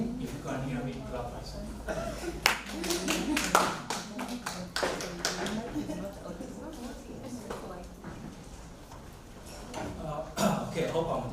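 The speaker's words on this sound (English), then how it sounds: "If you can hear me, clap." Scattered audience clapping at a youth agripreneurs event in Kenya comes in uneven, sparse bursts of hand claps, moderately close, with quieter gaps and some voices in between.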